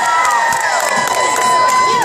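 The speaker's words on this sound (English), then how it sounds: "I want both teams to cheer together, nice and loud and proud, on the count of three." Two teams of kids and adults at an aquarium event cheer loudly together, a dense sustained roar of shouts and whoops close by, filling the whole moment without a break.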